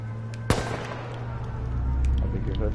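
A single sharp gunshot in the H1Z1 battle royale game cracks loudly once near the start, followed by low rumbling game ambience and faint distant pops.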